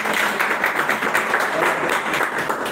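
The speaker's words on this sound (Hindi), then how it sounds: "तालियां।" A seminar audience of installers in Lahore claps loudly and steadily in a thick, continuous round of applause that holds for the whole stretch.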